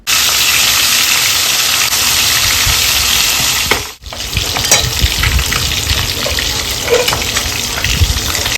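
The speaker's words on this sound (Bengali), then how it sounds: "এখন মাছটা ভাজা করছে" Fish sizzles loudly in hot oil in a home kitchen pan, a dense continuous hiss that cuts out briefly midway, then resumes with occasional pops and clinks.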